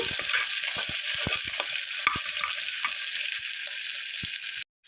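Onions fry in about three spoons of oil for homemade khichdi, a close, steady sizzle broken by frequent spoon taps and scrapes, cutting off abruptly just before the end.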